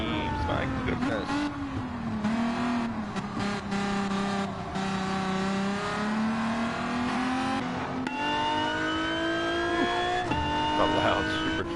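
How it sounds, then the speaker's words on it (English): Race cars lap a circuit, the engines revving continuously with a prominent high supercharger whine riding over shifting pitch, loud and close, with a brief tire chirp and talk underneath. "A loud supercharger whine."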